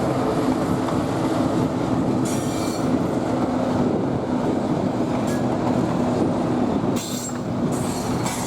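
A train hauled by an MK50-3 diesel locomotive rolls slowly along poorly maintained track, a steady close rumble of wheels and cars with occasional brief metallic squeals and clicks.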